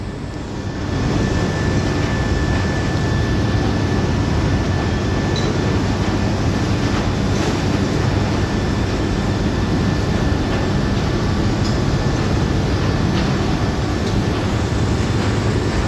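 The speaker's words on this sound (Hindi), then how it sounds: "अभी छोटी चैन चल गई है अब, क्योंकि ट्रैक्टर ज़्यादा आने लगे हैं।" A small chain conveyor at a sugarcane mill, fed by tractor trolleys of cane, runs with a loud, steady mechanical rumble and faint rattling, unbroken throughout with no voices.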